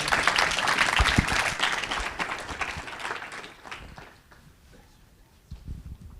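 Audience applause at a startup pitch competition, dense clapping for the first few seconds, then thinning and fading toward the end with a brief swell of scattered claps.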